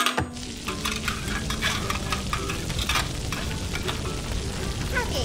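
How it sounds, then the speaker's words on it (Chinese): An egg fries in a wok, giving a steady, dense sizzle close by, with scraping and stirring clatter over it throughout and no voices. "来煎鸡蛋"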